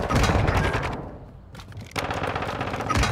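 Rapid, loud bursts of gunfire from a Call of Duty match, featuring a shotgun, fill the clip; a dense volley breaks off briefly mid-clip, then the shooting resumes just as heavily.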